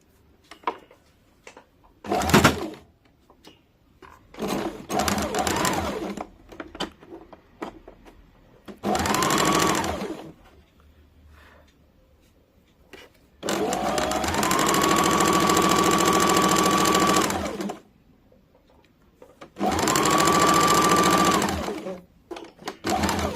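Sewing machine stitching a kurti, running in repeated bursts of varying length, the longest lasting several seconds, with quiet pauses between and faint movement in the gaps.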